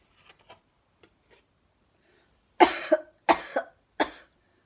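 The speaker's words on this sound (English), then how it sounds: "cough into your sleeve" A few faint taps and rustles, then three loud, close coughs in quick succession, each sharp burst trailing off briefly.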